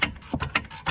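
A ratchet turns a nut on a BMW E39 rear upper control arm, giving about five quick, close metallic clicking strokes in a steady rhythm, with no talking.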